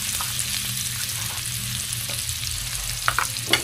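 Chopped onion sizzles and gets stirred in a hot pan while homemade sisig cooks, a steady close frying hiss with a few sharp scrapes and clicks near the end.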